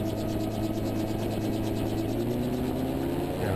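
An autogiro's turbocharged engine runs at full takeoff throttle, a steady loud drone with a rhythmic rotor beat, the pitch rising slightly near the end and no talk.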